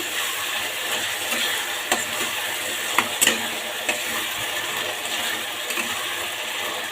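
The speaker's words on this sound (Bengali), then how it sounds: "এবার সবগুলোকে একসাথে করে খুব সুন্দরভাবে কষিয়ে নেবো" Fish head, spice paste and lentils sauté together in a pan, giving a steady soft sizzle with scattered clicks and scrapes of stirring, close and moderately quiet, with no talk.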